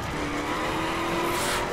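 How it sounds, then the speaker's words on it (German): A car in The Crew Wild Run video game drifts through a corner, its tires squealing in a steady, loud, sustained screech over the engine noise. "Schön im Drift durch die Kurve."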